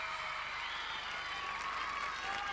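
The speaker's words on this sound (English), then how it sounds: "the crowd are pretty excited as Alana Slater steps onto the floor" Arena crowd at a 2000 gymnastics team competition (Ukraine, Belarus, Australia) cheering and applauding as a gymnast steps onto the floor, a steady wash of distant clapping and crowd noise throughout.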